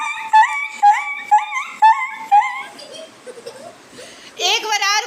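A person imitates a dog with a rhythmic run of yipping, whimpering barks. Five or six close, loud repeats are followed by softer noises and a final wavering howl-like cry.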